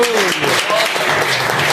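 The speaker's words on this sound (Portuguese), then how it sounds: "As palmas bem fortes." A church congregation claps loudly in steady, dense applause, with voices calling and singing over the clapping throughout.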